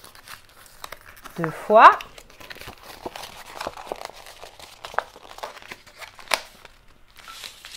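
Paper being folded for a Christmas craft, a small salon for stuffed toys: crinkling and rustling with one louder crease near the start, then light handling noises. Someone talks over it.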